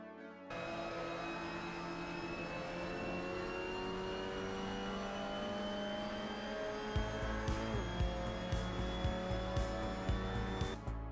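A Mazda MX-5 Cup race car in Assetto Corsa circles the Brno Circuit. The engine holds a steady, whining drone with a constant pitch, then a run of rhythmic clicks and gear-change pulses comes in near the end.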